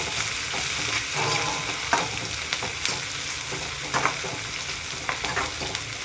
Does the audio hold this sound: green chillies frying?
yes